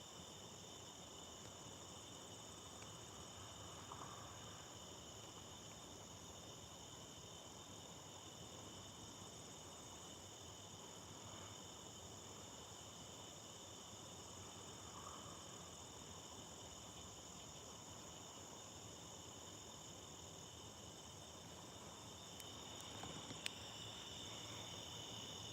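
A steady, dense chorus of crickets trills continuously at night on high, evenly pitched notes, with a faint hiss and no voices.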